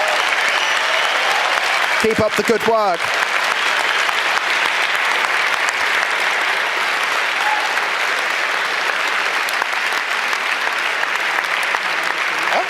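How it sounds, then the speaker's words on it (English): A conference audience at the 30c3 hacker congress applauds speaker Trevor Paglen with steady, loud, sustained clapping, while someone speaks briefly over it near the start. "Big round of applause,"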